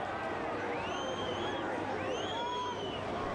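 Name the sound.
football crowd in main stand reacting to offside call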